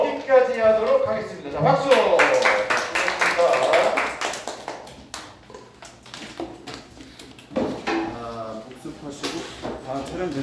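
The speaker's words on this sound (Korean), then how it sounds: "자, 박수!" A small class claps briefly at the end of a Korean math lesson, a short burst of close hand claps mixed in with a teacher talking over them.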